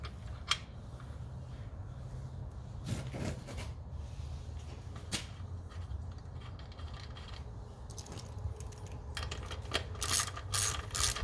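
Quiet ratchet clicks from tightening bolts on a radiator guard of a Triumph Street Triple 765 motorcycle, coming in short bursts of rapid ticking, faint and close, with no talk.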